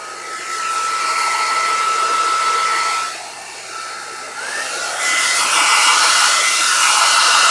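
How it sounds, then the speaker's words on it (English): A hair dryer blows steadily and loudly at close range, drying brown paint on a miniature, with a brief dip in the airflow midway before the roar resumes. "Can even hit it with the hair dryer."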